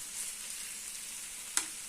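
Steady sizzling hiss of lavash frying in a pan, with one brief pop near the end.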